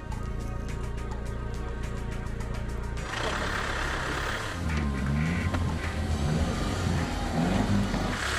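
An Iveco Massif, a 2.3-ton off-roader, tows a broken-down car. A steady engine drone with a rhythmic ticking gives way to a louder, rougher engine strain and rumble as it pulls. No one speaks.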